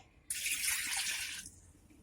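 Water pours in a steady stream for about a second, splashing into a pressure cooker holding dal, then stops abruptly.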